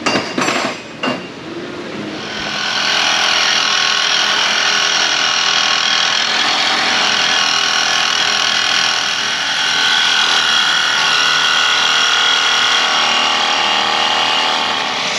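Power cutting tool slicing off seized catalytic converter bolts under a 2007 GMC Sierra 5.3, a loud, steady grinding whine holding for over ten seconds after a few brief knocks at the start.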